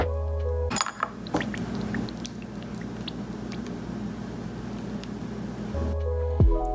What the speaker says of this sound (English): you can actually hear air bubbles coming out of the watch